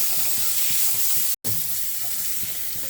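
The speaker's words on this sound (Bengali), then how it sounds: "জাস্ট হালকা করে কিন্তু চিকেনটাকে একটুখানি ভেজে নেবো।" Chicken lightly frying in a pan with a little salt gives a steady, close sizzle with faint crackles, broken by one very short silence midway.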